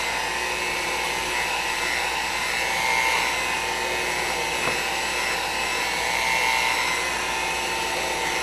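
An electric mixer whirs steadily at high speed as it beats batter in a home kitchen, a continuous close motor drone with a slight rise and fall in pitch and no talking.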